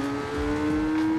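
Modified Kawasaki ZRX 1000 motorcycle with a long exhaust in a racing video game, engine droning at a steady high pitch while accelerating, brief and fairly loud.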